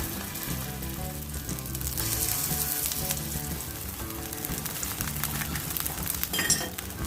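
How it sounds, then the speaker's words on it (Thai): Pieces of Thai-style mochi fry in hot oil until golden, with a dense, continuous crackling sizzle heard up close and occasional faint clinks of a utensil. "เราก็มาทอดกันเลยดีกว่าค่ะ"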